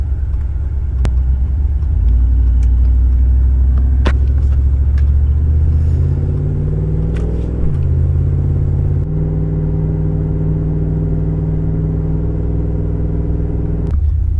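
A cammed 6.0 V8 swapped into a Chevrolet Silverado truck idles loudly at a stoplight, its deep lumpy rumble steady and close, with the pitch shifting slightly midway as the engine is held against the brake, no talking.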